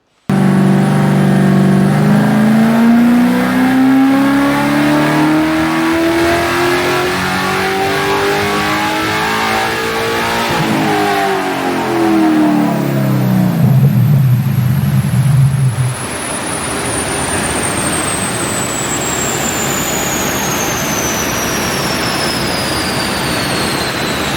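A powerful car engine revs up hard on a dyno, rising steadily in pitch, then cuts off. Turbo whistles and a lower idle rumble follow.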